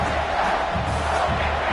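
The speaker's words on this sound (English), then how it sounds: "The roar of the crowd trying to fuel this defense to keep them pinned in their own end." Stadium crowd in the College Football 26 video game, a loud, dense roar of massed voices surging steadily across the whole stretch with no single voice standing out.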